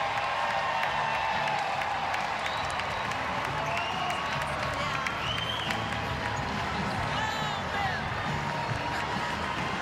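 A dense arena crowd at a women's college basketball game between Iowa and Cleveland State in Des Moines roars and applauds continuously, steady cheering filling the space with voices blended into the din.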